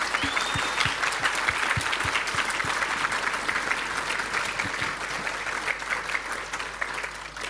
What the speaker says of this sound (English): I'm sure they deserve a round of applause